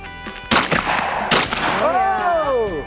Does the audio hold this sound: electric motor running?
no